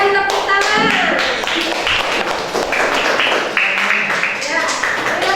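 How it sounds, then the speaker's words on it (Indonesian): Classroom applause for a group of students after a presentation, with quick scattered claps and taps from a small group, fairly close and mixed with a voice speaking. "Berikan tepuk tangan."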